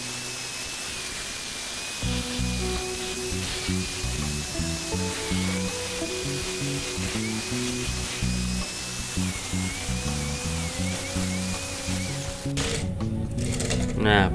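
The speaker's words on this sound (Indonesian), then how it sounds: "Dan ini akan digerinda dulu sobat, bagian layarnya" A grinder works on a water pump part with a steady high-pitched whine and rough grinding, close up and continuous for about twelve seconds before it stops, and someone talks over it.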